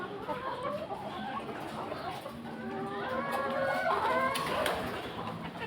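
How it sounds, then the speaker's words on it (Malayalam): Chickens in a raised high-tech coop cluck and call in overlapping, drawn-out tones against a steady background, growing busier toward the end. "ഇതാണ് നമ്മുടെ കോഴികൾ."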